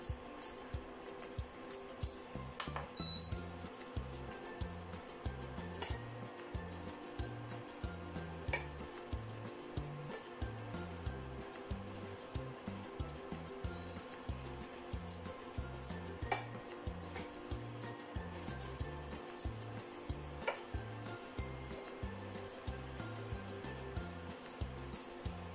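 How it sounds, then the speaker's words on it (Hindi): Beetroot sabzi with moong dal and methi leaves is stirred in a pan, giving faint repeated scraping and clinking at a steady rhythm over a soft sizzle that runs the whole time. "इसमें हम ये मेथी लीव्स भी डाल देंगे और अच्छे से इन सबको मिक्स कर लेंगे हम"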